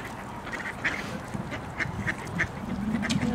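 A coot calling on Lake LaFarge, outdoors with light background noise: several short, nasal, duck-like calls spaced through the moment, moderately near.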